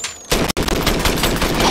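Light machine gun firing in Goat Simulator, a rapid continuous burst of loud automatic gunfire after a short lead-in, briefly interrupted by a sharp cut, then rattling on steadily.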